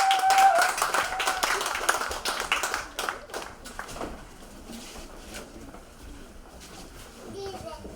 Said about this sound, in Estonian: Plaksame sisse.